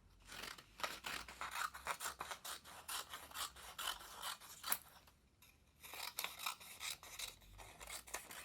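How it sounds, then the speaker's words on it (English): Scissors snip paper into strips for a paper sculpture in a steady run of crisp, close cuts with a short pause midway, no talking. "when I cut the paper into my strips"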